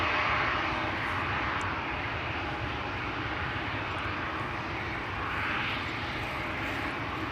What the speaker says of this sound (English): This is the KLM in the SkyTeam livery. Flight 1971, 737-900.